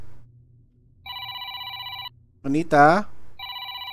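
A telephone rings in a horror video game, with two long electronic ring bursts separated by a pause, and a person speaks briefly between the rings.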